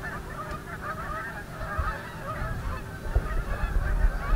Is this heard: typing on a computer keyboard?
no